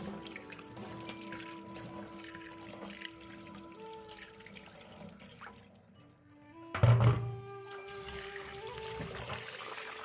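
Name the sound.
washing rice and moong dal under water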